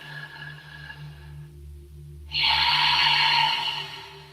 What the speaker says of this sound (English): take a deep Ujjayi breath now into our heart center, into our heart chakra, the sound of the ocean